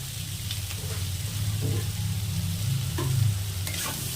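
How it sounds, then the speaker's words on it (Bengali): Spiced papaya curry with shrimp fried and stirred in a pan, a steady low sizzle with soft scraping stirs at intervals throughout, close and continuous with no talking. "সবগুলো আবার ভালো করে ভেজে নেব।"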